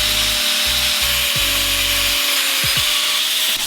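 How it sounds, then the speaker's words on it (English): A flap disc grinds and sands a welded custom intake pipe, giving a steady loud abrasive hiss with a droning motor tone that rises and drops as the tool bears down and lifts off, with no talking. "Started with a flappy disc, and then we just worked our way up the grits."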